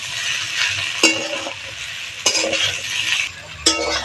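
A spoon stirs fried egg through egg pasta in a hot pan, giving three sharp metallic scrapes and clinks against the pan over a soft, continuous sizzle close at hand.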